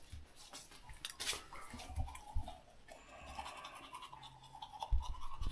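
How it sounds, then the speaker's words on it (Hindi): Teeth being brushed with a toothbrush, a close, scratchy back-and-forth scrubbing in uneven bursts, quiet and alone with no talking. "ब्रश कर रही है।"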